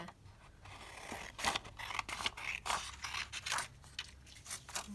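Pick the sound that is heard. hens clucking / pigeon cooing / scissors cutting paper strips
scissors cutting paper strips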